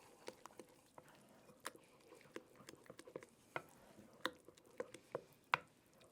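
Potato biscuit dough of potato, flour, water and yeast being mixed by hand in a bowl, giving faint, soft squishy slaps and irregular light taps close by, with no talk.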